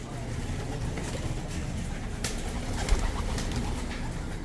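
Pigeons coo in a breeders loft in Angeles City, Pampanga, a low steady murmur of birds close by, with broadband rustle and a faint engine-like rumble underneath.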